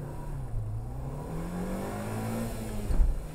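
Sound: race cars starting: Civic Type R, Megane R26R, Mini Cooper

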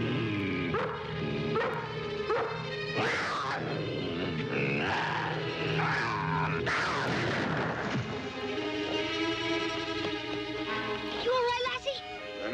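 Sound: dog barking and whimpering

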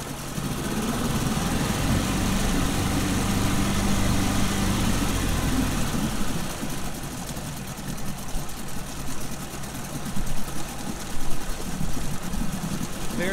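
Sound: outboard motor engine idling

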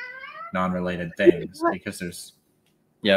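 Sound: cat meowing

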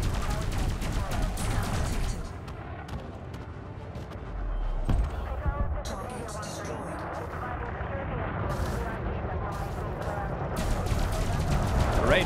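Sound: weapons firing in the video game Elite Dangerous

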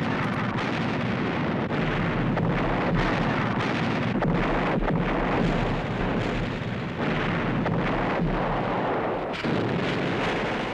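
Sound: artillery fire

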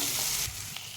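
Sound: onions, chillies and tomato sautéing for onion chutney

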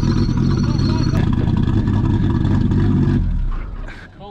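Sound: worn car engine revving

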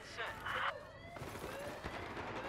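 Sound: gunfire in Battlefield 4 video game

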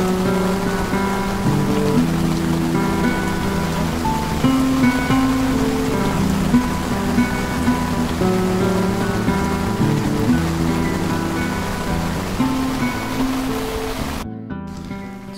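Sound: heavy rain falling at a carp fishing session

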